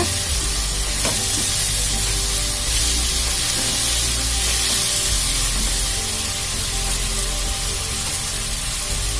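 Ginger garlic paste frying in a pan for a hotel-style white vegetable kurma, giving a steady, even sizzle that hisses continuously without pause.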